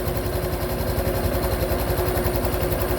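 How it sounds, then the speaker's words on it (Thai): A Honda Wave 125i motorcycle engine idles steadily just after starting, a close, even mechanical putter with a fast regular pulse and no voices. "อันนี้คือสตาร์ทเครื่องแล้วนะครับ"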